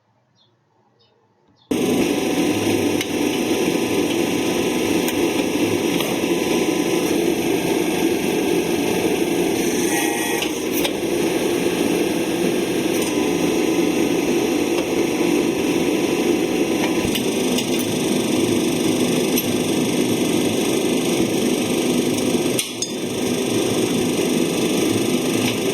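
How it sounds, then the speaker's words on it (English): A riveting machine presses a red-hot rivet to join two metal plates, starting abruptly with a steady loud mechanical hum and drone that holds for over twenty seconds, with a few faint clicks and a brief dip near the end. "They are pressing this rivet by the help of a machine."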